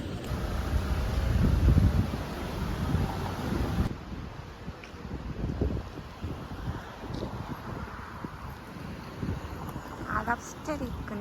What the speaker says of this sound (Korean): 아, 바람 엄청 분다.